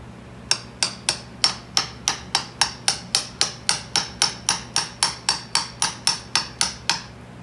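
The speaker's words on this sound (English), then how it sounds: "Grab our hammer here." A hammer strikes a socket to drive a CV axle into a Dodge Ram, a steady run of about twenty sharp metallic blows at an even, quick rhythm, loud and close with no talk.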